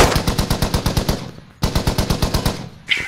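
A .50 cal machine gun firing in the shooter game Squad, two loud, close bursts of rapid, evenly spaced heavy shots separated by a short pause, then the start of another burst.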